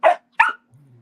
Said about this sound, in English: just shut it up